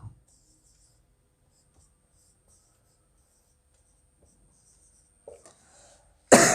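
During a quiet maths lesson with faint pen scratching, a teacher gives one sudden, loud, close cough right at the end.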